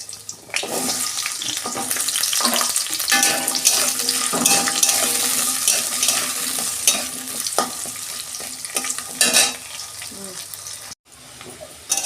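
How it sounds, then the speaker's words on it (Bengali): Sliced potatoes fry in hot oil in a home wok, giving a loud, steady sizzle and crackle that runs nearly the whole stretch with occasional stirring scrapes, briefly cutting out near the end. "তেলটা গরম হয়ে গেছে"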